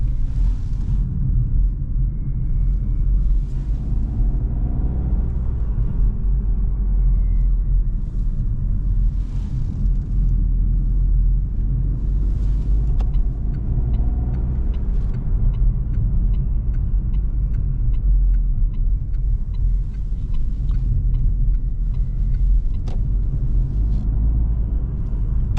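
Inside an Opel Frontera Hybrid 145 driving at night, a steady low engine and road rumble drones continuously with tyre and cabin noise, loud and unbroken, with no talking.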